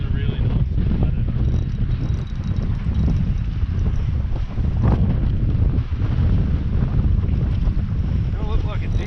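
Gale-force wind blasts across the microphone on a small fishing boat out on the water, a constant loud roar and buffeting with wave wash beneath, steady throughout.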